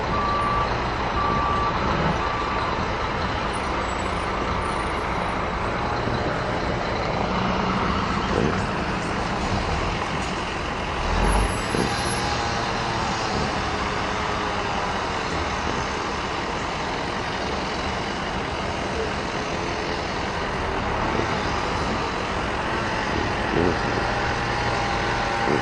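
Construction trucks reversing during water and sewer line replacement on a residential avenue, with repeated backup beeps over a steady engine and roadway rumble that runs continuously throughout, no talk.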